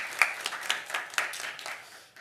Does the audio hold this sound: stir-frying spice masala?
no